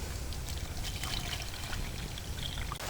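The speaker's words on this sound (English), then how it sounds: "In goes the water." Quiet trickling splash of water being poured into a mug, steady and soft, with no talking.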